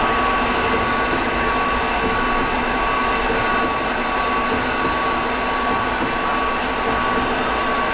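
An Emco Compact 5 CNC lathe, converted to Centroid Acorn control, runs its spindle with a steady, even whir and a thin constant whine that hold unchanged throughout, close and fairly loud.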